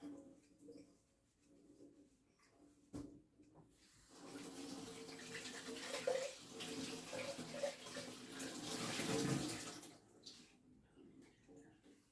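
Tap water runs quietly in a kitchen sink while a cinnamon stick is rinsed, a soft steady splashing that rises in the middle and eases off, with faint thumps around it.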